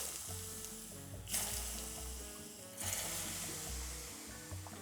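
Hot neutral oil at 180 degrees Celsius crackles and sizzles steadily, swelling in two louder bursts as ginger is dropped in, close and continuous with no talking.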